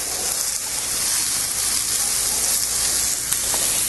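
Peaches tossed onto a hot, oil-sprayed cast iron grill sizzle loudly and steadily, a dense broadband hiss close up with a faint clink near the end, no talking.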